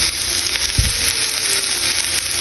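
Cumin seeds sizzle in hot oil in a pan, a steady bright hiss with a small crackle as they land, close and continuous without talk.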